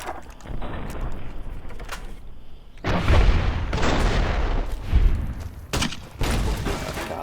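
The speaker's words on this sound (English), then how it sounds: "That's a pretty big explosion." A big explosion goes off in the modded Fallout New Vegas video game. Loud, deep booms roll over one another with a rumbling tail, and a second heavy blast lands partway through.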